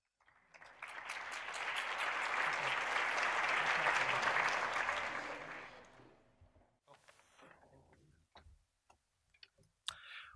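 An audience at an economics development conference applauds a keynote speaker, a swelling burst of clapping that builds, holds for several seconds, then fades to a few scattered claps and room noise.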